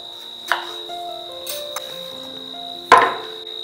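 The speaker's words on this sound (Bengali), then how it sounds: "এখানে একটা টমেটো নিয়েছি, এটাকেও বেটে নেব, কিন্তু তার আগে একটু ছোট করে কেটে নেব" A knife chops a tomato into small pieces on a board in a home kitchen, a couple of sharp, close knocks with faint quieter cuts between, against a steady high tone.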